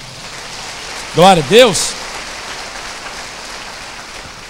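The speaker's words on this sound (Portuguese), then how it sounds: "Diga amém e dê um aplauso ao Senhor." A church congregation applauds at a Pessach service, a dense patter of many hands that holds steady while one voice briefly calls out an exclamation partway through.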